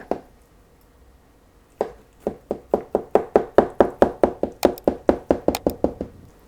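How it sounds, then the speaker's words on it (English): A knife cuts down through a layered herring fish cake salad and taps the plate: one knock, a pause, then a fast, even run of close, crisp chopping taps. "I will cut from the opposite side so you can see better."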